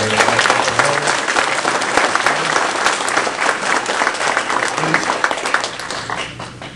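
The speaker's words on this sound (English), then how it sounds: "I think we should give them a round of applause for being here." A round of applause from the audience at a sheriff candidate forum, loud, dense clapping that holds steady for several seconds before starting to thin out near the end, with faint voices underneath.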